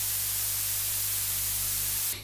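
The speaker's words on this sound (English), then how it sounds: "It's just a noise output." White noise from a DIY CMOS drum machine module, a loud, steady, bright static hiss with a low hum beneath, cutting off abruptly at the end.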